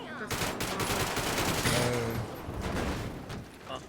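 Rapid bursts of gunfire rattle out in a video game as shots are fired at a car's tires, loud and dense, with dense gaming effects filling the background.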